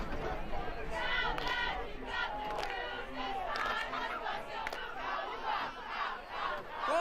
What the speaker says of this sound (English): the student section, joining the Cubs, cheering loud and proud